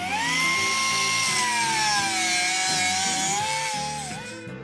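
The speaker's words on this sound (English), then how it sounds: "I need a die grinder." A die grinder clears space on an oil pan for an off-road 6x6 build, giving a loud, close, continuous high-pitched whine that rises and dips as it cuts metal before tapering off at the end.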